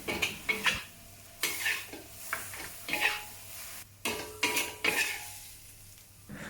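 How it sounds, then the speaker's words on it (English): Bacon and cabbage stir-fried in a wok for a Chinese recipe: a spatula repeatedly scrapes and flips the food against the metal in quick irregular bursts, with clinks over a steady background sizzle. "Have a few quick stirs and flips and remove from the wok immediately."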